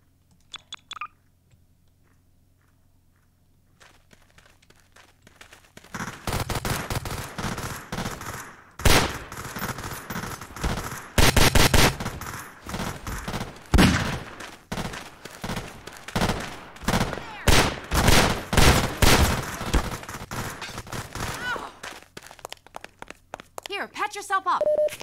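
Loud bursts of rapid gunfire ring out in the game Garry's Mod in irregular volleys after a quiet start, with a voice talking between the shots.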